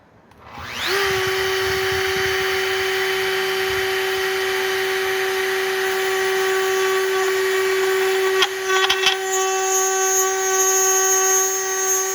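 A power drill with a thin bit bores into wood for a chair mortise-and-tenon joint, a steady whining motor drone held loud and close, with a brief stutter near the end before it continues.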